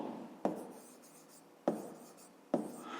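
A pen writes on paper during a fifth-grade maths exercise, heard as three sharp, close scratchy strokes spaced about a second apart over a quiet room background.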